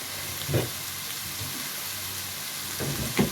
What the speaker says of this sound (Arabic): هفضل احمر فيه كده